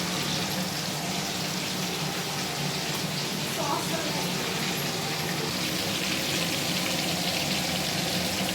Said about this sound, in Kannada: ಈರುಳ್ಳಿನೂ ಚೆನ್ನಾಗಿ ಫ್ರೈ ಆಗಿದೆ ನೋಡಿ.